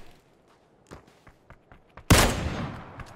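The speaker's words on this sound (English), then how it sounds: "Getting shot from blue." Gunfire in the video game PUBG on the Miramar map: light footsteps, then a sudden loud gunshot blast with a ringing decay that fades over about a second.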